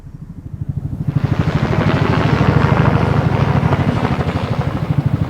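A US military tiltrotor hybrid aircraft flies over Okinawa, its rotors beating in a fast, steady thudding pulse that swells louder as it passes close overhead, heard alone without talk.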